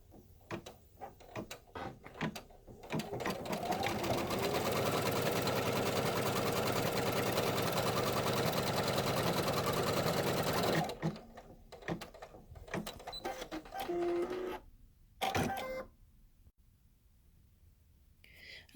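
Sewing machine stitching a pocket onto an in-the-hoop wallet runs steady and loud for about six seconds, then stops; handling clicks and thumps of fabric and hoop come before and after, close by.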